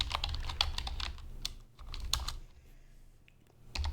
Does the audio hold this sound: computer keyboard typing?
yes